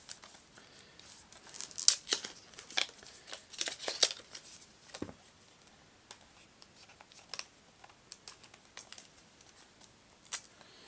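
A packaged deck of game cards being opened: scattered crinkles, tears and papery rustles in irregular bursts, close and fairly quiet, with no talk.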